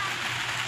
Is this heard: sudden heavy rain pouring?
yes